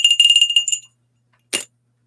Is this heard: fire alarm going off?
no